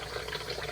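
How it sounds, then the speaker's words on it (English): Hot water runs steadily from a kitchen tap, a soft continuous hiss and trickle heard alone and faint for under a second. "there's definitely hot water coming from the kitchen"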